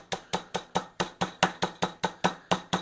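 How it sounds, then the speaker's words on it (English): A meat mallet pounds chicken cutlets flat to about half an inch for chicken Marsala, fourteen sharp, evenly spaced thuds in a steady rhythm, close and loud with no talking. "I'm going to take my trusty mallet."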